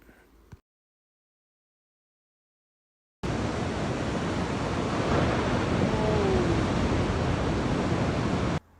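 Ocean waves at a remote reef break come in as a steady, dense roar of surf after a brief noise and a few seconds of silence, with some wind mixed in before it cuts off.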